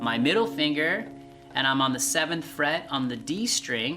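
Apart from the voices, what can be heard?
No everyday noises stand out.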